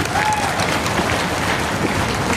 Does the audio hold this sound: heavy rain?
no